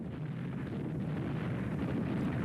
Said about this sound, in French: Bombardements et pilonnage d'artillerie réduisent l'horizon à un mur d'explosion.